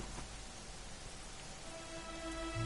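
Steady rain falling in the Dragon Quest 11 video game, a faint, even hiss of drops with a low tone entering near the end.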